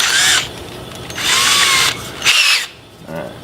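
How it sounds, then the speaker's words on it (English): A power drill boring a hole the same size as its bit, running in three loud, close bursts of high whine with short pauses between. "So, I'm drilling the same size as the drill bit."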